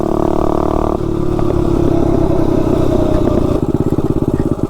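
A mini bike engine with a DIY exhaust, VM22 carburetor and stock Tillotson flywheel runs loud and steady with a raspy, crackling note, shifting pitch partway through and ending in a rapid pulsing chug.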